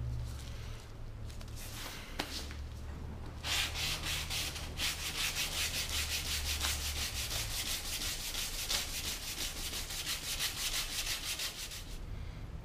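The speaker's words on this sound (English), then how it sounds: "I'm going to put 320 on my little sanding block." Body filler on a dented rear car quarter panel is sanded with 320 grit paper on a small sanding block, producing steady close rasping strokes in a continuous back-and-forth rhythm with no talk.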